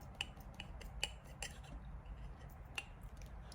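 Not-very-sharp scissors snip thread during a handmade stash jar project, giving three or four faint, crisp clicks spaced irregularly against a quiet background.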